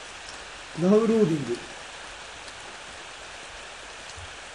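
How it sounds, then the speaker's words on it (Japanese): Faint, steady rain hisses throughout a scene in the Ao Oni mobile horror game, with a brief voice speaking near the start. "雨が降り始めたよ"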